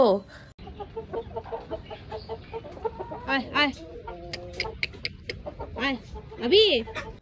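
A hen clucks in short, warbling bursts, close by, with a few louder squawks near the end and some background noise and handling sounds.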